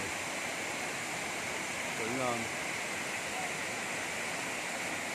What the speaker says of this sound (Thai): นำเสนอนะครับน้ำตกคลองลาน